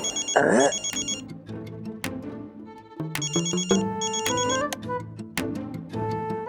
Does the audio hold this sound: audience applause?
no